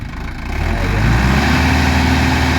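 A stalled car out in a haor wetland is cranked and its engine catches, a low, steady rumble that grows louder after the first second and holds in a close, continuous drone.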